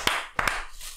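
Two or three sharp hand claps, close and fairly loud, in a podcast studio with a brief clap at the start and a quick pair a moment later, then quiet room tone.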